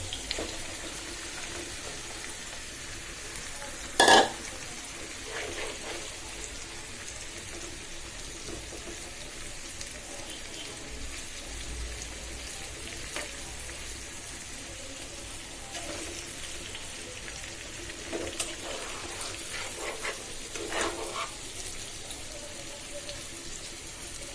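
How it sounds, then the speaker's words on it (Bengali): Spice-marinated baila fish dropped into hot oil with frying onion, garlic and green chili gives a soft, steady sizzle throughout, fairly quiet, with one brief sharp clatter early on and no talking. "এবার আমি মশলা সহ মেখে রাখা মাছগুলো দিয়ে দিচ্ছি।"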